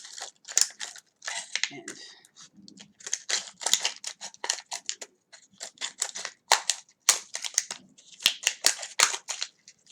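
Scissors snipping through a plastic water bottle, with quick bursts of crisp cutting and crinkling plastic in an irregular rhythm, close and fairly quiet, and a voice speaking in places.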